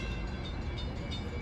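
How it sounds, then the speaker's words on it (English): An LIRR electric MU train rolls through Mineola station during the evening rush, a loud steady rumble of wheels and motors close by, sustained without a break and with no talking. "Get a few high-stepping MUs going through here around now."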